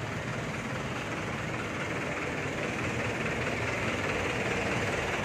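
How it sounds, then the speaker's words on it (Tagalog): Heavy street traffic with trucks, vans, cars, motorcycles and tricycles, heard as a dense, steady roar of engines and road noise at close range with no voices. "Ang halo na ang truck, van, kotse, motor, tricycle"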